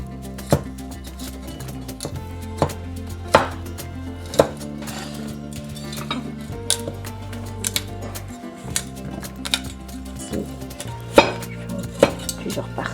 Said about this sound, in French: Je vais couper les petites fleurettes